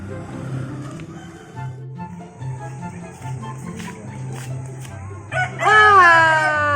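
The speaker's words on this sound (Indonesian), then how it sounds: "ayam siapa nu gede banget noh?" A large chicken crows loudly near the end after a stretch of clucking and low rustling, with people talking in the background.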